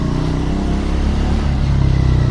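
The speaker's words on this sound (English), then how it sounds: "I really love the sound when I let go of the accelerator" A motorcycle engine with the throttle released gives a loud, close, throbbing mid-pitched drone with rapid rhythmic pulsing that grows slightly rougher toward the end; no speech.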